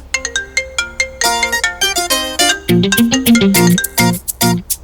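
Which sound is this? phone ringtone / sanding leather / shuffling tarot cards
phone ringtone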